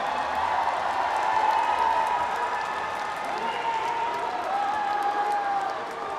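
A hall full of party members applauds steadily for a presidential candidate invited to give his acceptance speech at a party convention, a dense wash of clapping with a faint crowd murmur underneath, holding even and fairly loud throughout.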